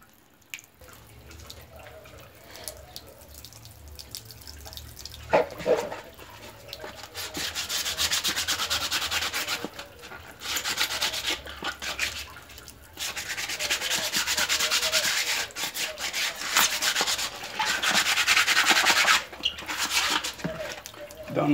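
Fine sandpaper is rubbed over sun-damaged plastic in steady back-and-forth strokes. The scratchy rasping starts quiet, then grows louder and denser after a few seconds, with brief pauses between bursts.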